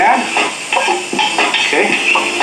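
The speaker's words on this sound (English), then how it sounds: "I'm going to throw in my veg to the pan" Vegetables tossed into a hot pan of butter seasoned with salt and pepper, giving a steady loud sizzle with repeated clattering stirs and pan knocks over about two seconds, alongside a steak dish.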